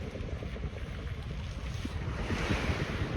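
Gusty wind buffets the microphone by the sea, with a rushing, roaring wash of surf and air and no voices.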